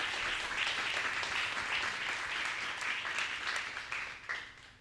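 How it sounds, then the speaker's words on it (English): Audience applause at a symposium, a steady wash of many hands clapping that holds through most of the stretch and then begins to thin and fade toward the end, with no talking over it. "So a big applause to Maya."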